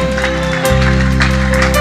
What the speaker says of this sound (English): God bless those who are clapping.